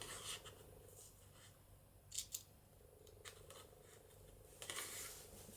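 Scissors snip through a sheet of 12-inch craft paper, with a few short, crisp cuts close by and quiet pauses between them.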